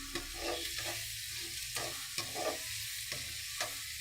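Onions or masala sautéing in a pan for Tamil fish gravy with rock salt, a soft steady sizzle broken by repeated stirring scrapes, close but fairly quiet.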